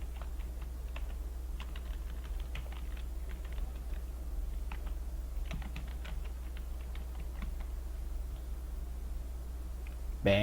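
Keys on a computer keyboard are tapped in quick, uneven bursts, soft and close, over a steady low electrical hum.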